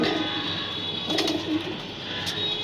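Pigeons in a loft room give soft, low coos over a steady background hum, with a couple of brief sharper sounds.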